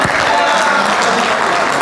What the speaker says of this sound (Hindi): भरपूर तालियां जी खालिद साहब के लिए